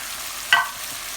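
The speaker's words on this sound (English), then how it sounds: "the sizzling sound and the nice smell." A short burst of hissing sizzle as a quarter cup of water hits a hot pan of Hyderabadi Chicken 65, fading quickly into a low steady kitchen hiss.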